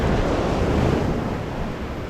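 Surf washes steadily onto a semi-deserted Bay of Fundy beach in New Brunswick, a loud, continuous broadband rush with wind buffeting the microphone and no talking.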